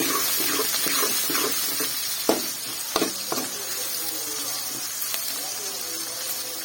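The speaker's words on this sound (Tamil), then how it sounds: "இதையும் சேர்த்து நல்லா வதக்கிக்கிறேன்" Fennel seeds and green chillies sauté in a pan for a tamarind curry, giving a continuous sizzle with a few sharp clinks and scrapes of a spatula, close and fairly loud.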